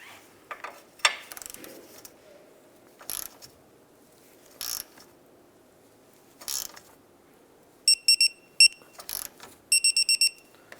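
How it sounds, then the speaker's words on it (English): A torque wrench tightens the ball joint nut on a 2001-2005 Honda Civic with repeated short ratcheting clicks in bursts, ending in rapid clustered clicks as it reaches torque, close and crisp in a quiet workshop. "We're going to go ahead and torque that down to"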